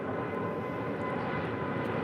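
Airliner engines at climb power during a go-around from a missed approach at LAX, a steady broadband roar that holds loud and even throughout.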